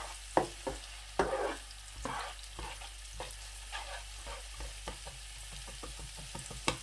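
Onions browning in a pan for tawa beef liver, a soft steady sizzle under repeated sharp stirring knocks and scrapes of a spatula, fairly quiet.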